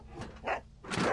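A dog in the game Dog's Life barks twice in quick succession, short muffled video game woofs heard close and without speech.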